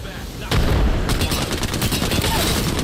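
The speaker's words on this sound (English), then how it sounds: "Getting shot from the right now" Loud, close gunfire in the battle royale game Apex Legends: a sudden onset of rapid automatic shots and heavy booming impacts in dense bursts, with voices partly under the noise.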